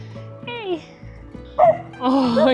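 Several dogs bark and yip close by on a mountain road in Bosnia, in sharp overlapping bursts that grow louder toward the end, with a person speaking briefly among them.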